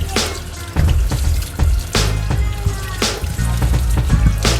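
Tap water running in a kitchen sink as potatoes are rinsed for a chuck pot roast, a steady close splashing flow with irregular bumps and clunks of the potatoes being handled.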